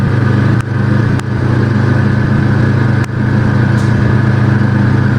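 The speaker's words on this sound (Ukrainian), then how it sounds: "Чутно генератор напрягся конкретно, а може і не конкретно." A generator engine strains under load while charging a battery through a hybrid inverter, giving a loud, steady, close-up droning hum with a few brief dips in level.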